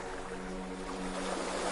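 Sea waves wash in a steady, soft surf with a gentle breezy hiss, continuous and moderately quiet with no distinct breaks.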